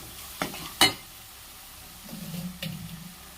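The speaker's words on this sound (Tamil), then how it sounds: "பச்சை வாசம் போகிற அளவுக்கு நல்லா வணக்கிடுங்க இதெல்லாம் நல்லா எண்ணெயில் போட்டு" Masala is sautéed in oil in a pan for a Tamil fish curry. A soft sizzle runs underneath while a spoon scrapes and clinks a few times, with no talking.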